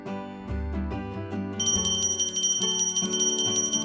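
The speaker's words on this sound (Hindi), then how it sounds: "बहुत पैसे आने को होना करके घंटा बजाता है" A magic bell rings in a folk tale scene, with bright metallic chimes and shimmering overtones layered over a loud musical backdrop.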